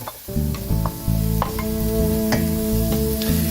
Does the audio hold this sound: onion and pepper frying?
yes